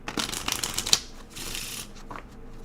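A deck of playing cards is shuffled at a silver coin roll hunting table, with rapid riffling bursts and a sharp snap, followed by a softer second riffle and light handling.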